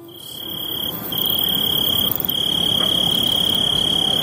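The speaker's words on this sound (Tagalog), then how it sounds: "ang tunog ng kuliglig ang tanging naririnig" Crickets chirping at night, a dense, loud, continuous high trill with a steady insect chorus underneath and no other sounds.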